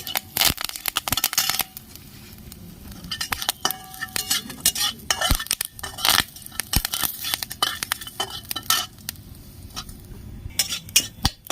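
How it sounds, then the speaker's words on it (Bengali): Fennel seeds and curry leaves crackling in hot oil in a pan, with frequent sharp spattering pops and metal utensil scrapes and clinks as the spices are stirred, close and uneven. "মৌরি দিয়ে দিচ্ছি কটা কারি পাতা দিয়ে দিচ্ছি"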